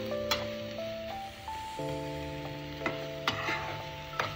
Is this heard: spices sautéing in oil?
yes